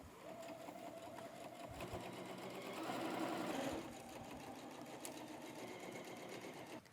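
Domestic sewing machine stitching a quarter-inch seam for a shopper tote, a steady whirring run that continues throughout, growing briefly louder and faster midway, heard close with no talk.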